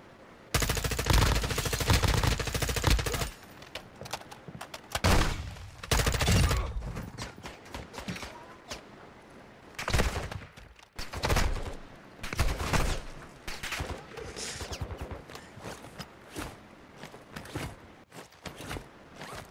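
Gunfire in Call of Duty DMZ: intense bursts of automatic fire and scattered shots, some loud and close, others fainter, separated by quieter gaps with rustling movement.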